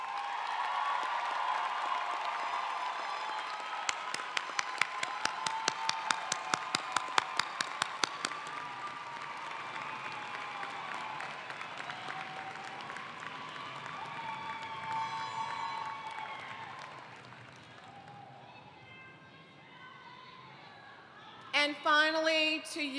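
At a college commencement ceremony, audience applause swells with scattered cheers, then fades to a quieter murmur before brief sounds at the end.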